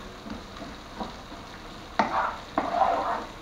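Sausage and sachet tomato sauce fry in a pan, a low sizzle broken by several sharp scraping stirs that swell louder toward the end.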